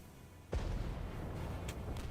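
Mortar artillery fires in the real-time tactics game MicroProse Regiments, a single sharp boom at about half a second followed by a rumbling tail and a couple of fainter distant reports, fairly quiet overall with no talk.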